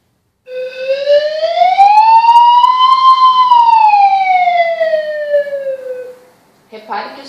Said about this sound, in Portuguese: Eu vou exemplificar aqui para vocês com a minha flauta êmbolo esse som.